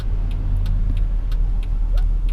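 Steady road traffic with cars passing close by, a continuous low engine drone and the rising rush of a vehicle, heard alone without talk.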